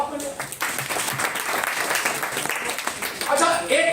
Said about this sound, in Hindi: 1 करोड़ की ताली बजाओ यार साहब के लिए